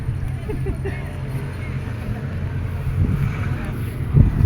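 Steady low rumbling wind buffets the microphone, with a brief voice breaking through near the end.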